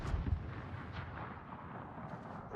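Booming naval gunfire from steel warships in a video game, a dense rumbling barrage of low blasts rolling on without pause.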